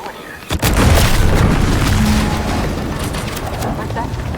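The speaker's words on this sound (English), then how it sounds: "What's that? An explosion?" An explosion in the video game The Outer Worlds 2 hits with a sharp onset, then a loud, sustained rumbling roar that slowly fades.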